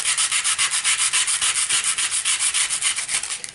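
Sandpaper rubs back and forth across a paper junk mail envelope to remove its printed words, a steady close scratching rhythm of quick strokes heard alone.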